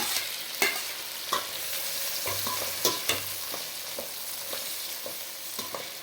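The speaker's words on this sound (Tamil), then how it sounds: "பச்சை மிளகாய் எல்லாம் போட்டு ஒன்றா கிண்டணும்." Spoon stirring onion, tomato, coriander and mint frying in a pan, a steady sizzle with periodic scrapes and clanks of the utensil against the metal, close and moderately loud, no voices.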